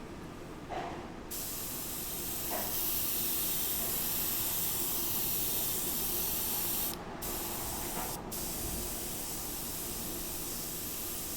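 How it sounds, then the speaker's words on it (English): A spray bottle mists alcohol onto an alcohol ink painting, a loud, sustained hiss of spray close by, with brief pauses and short restarts between bursts and no talk over it. "So I'm going to start spraying the outside of the alcohol and just pushing it in towards the center"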